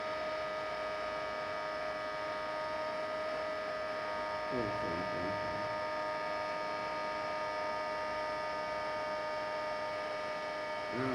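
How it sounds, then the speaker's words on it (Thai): A small electric fan spins and blows air with a steady, even electric hum throughout, and a voice speaks briefly over it partway through. "ก็จะมีลมออกมาครับคือหมุนพัดลมลมประมาณนี้"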